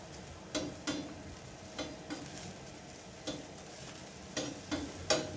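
Food sizzling on a Masterbuilt 1050 gravity-fed grill, a faint steady frying hiss with a few sharp crackles and pops scattered through it, heard close and without talk.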